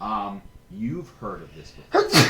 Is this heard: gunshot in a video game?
no